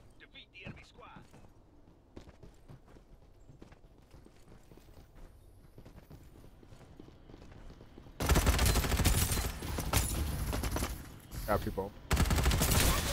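Video game gunfire bursts out loudly in the second half as rapid volleys and shots, after a quieter stretch of footsteps and clatter, with someone speaking briefly.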